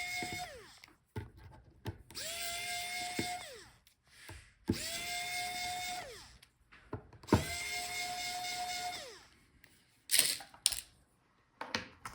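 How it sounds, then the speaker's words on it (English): Screws on the hinges of an MSI Bravo 15 laptop are undone with a power driver in three long whirring bursts, each rising and dropping in pitch, with clicks and handling noises between. "So let's unscrew our hinges."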